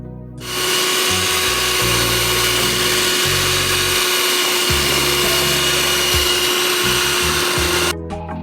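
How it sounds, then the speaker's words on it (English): A hand mixer beats cake batter on medium speed, a loud steady motor whine starting abruptly and running continuously for several seconds before cutting off, with a faint rattling knock from the beaters in the bowl. "we're going to beat our cake mix with a hand mixer for 2 minutes on medium speed"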